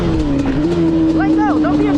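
A Yamaha Banshee engine revs loud and close in a steady, buzzing drone that rises and falls slightly over about two seconds, as the clutch is dropped to pull a wheelie.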